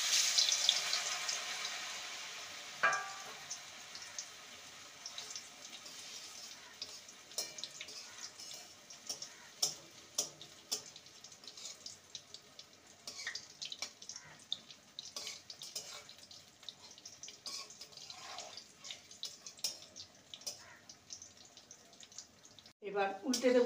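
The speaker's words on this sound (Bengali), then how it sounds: "এবার পুঁই পাতা পকোড়াটা ভেজে নেব" Poi (Malabar spinach) leaf pakoras in batter frying in hot oil, a continuous bubbling sizzle with frequent crackles and pops over about twenty seconds, a sharper burst at the very end.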